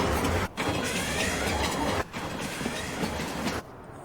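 Trains rolling in Farming Simulator 19, a loud continuous rumble and rattle of railcars with brief dips, heard alone without talking.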